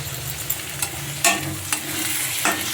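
Food sizzling in a hot pan as a spoon stirs and scrapes, with a few sharp clacks of utensil on metal over a steady frying hiss; no talking.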